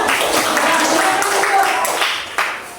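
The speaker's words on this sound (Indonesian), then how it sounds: "berikan tepuk tangan kepada peserta" Students in a classroom mathematics lesson applaud the participating groups with fairly loud, continuous clapping from many hands close by.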